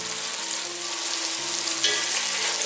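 Meat browns in a pan for chili verde, giving a steady close hiss of sizzling fat with a faint tonal hum underneath and no talk.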